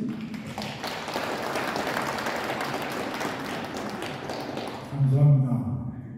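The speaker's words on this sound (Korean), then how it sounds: "큰 박수로 환영해 주십시오" Audience applause at a Korean community gathering, welcoming a speaker, steady clapping from a room of people that builds near the end, with a voice briefly heard toward the close.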